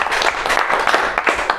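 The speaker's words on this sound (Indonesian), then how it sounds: "tepuk tangan untuk teman-teman kita semua" A brief burst of applause from a crowd gathered at a community iftar event in Bekasi, dense clapping filling the short moment.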